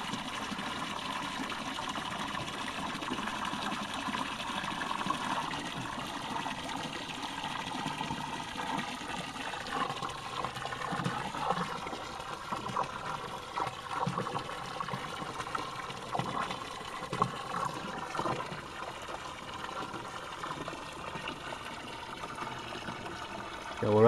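Water runs steadily into a newly installed bathtub during a bathroom remodel, a continuous rushing and trickling fill with faint voices and occasional knocks in the background.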